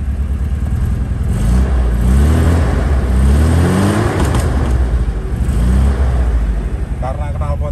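A Toyota Corona RT78 car's engine revs up and settles in repeated surges under continuous low rumble, heard from close by, with a person speaking over it at moments.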